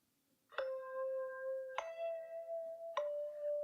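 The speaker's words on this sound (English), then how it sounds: "The bell signaled the end of lunchtime." A school bell chimes in the video game Seabed, three clear ringing tones spaced about a second apart, each struck note sustaining and overlapping the next against a quiet background.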